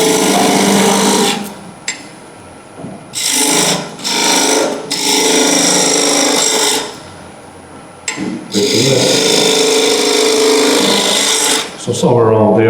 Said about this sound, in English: Now I'll start shaping the tenon.